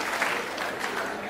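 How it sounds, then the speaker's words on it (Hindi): An audience at a Hindi poetry event applauds the poet, a brief burst of dense, steady clapping filling the short moment. "चलिए एक बार पूरा सदन ताली बजा के मुझे आशीर्वाद दे।"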